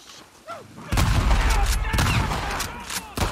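Shotgun blasts in a video game, on a flooded street: a sustained run of loud, booming shots after a quiet opening, with faint voices underneath.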